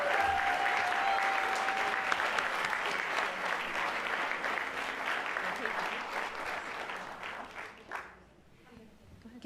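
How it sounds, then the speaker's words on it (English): At an educator of the year awards ceremony, a room applauds its retirees with sustained clapping and some voices, thinning out and fading to quiet near the end. "one more round of applause for all of our retirees"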